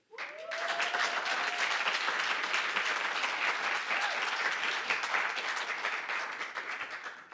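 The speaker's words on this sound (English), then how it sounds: "judging by the applause and excitement in the room" An audience in a room at a bank's WhatsApp banking launch bursts into sustained, steady applause that fills several seconds, with a faint whoop near the start before the clapping tapers.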